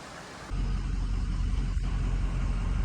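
A 2004 Ford pickup with a 6.0 Powerstroke diesel engine on its first test drive kicks in with a loud, deep rumble after half a second, then holds a steady, close cabin drone with no speech.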